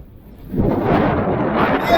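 Strong headwind roars across the microphone during a cold bicycle ride at about +1°C. A deep, rumbling gust swells after about half a second and stays loud, with no talking.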